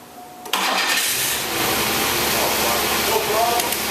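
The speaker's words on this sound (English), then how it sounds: "cold start of the blue Cav" A blue Chevrolet Cavalier engine cold-starts with a sudden cranking burst, then settles into a steady, loud idle that runs close by for several seconds.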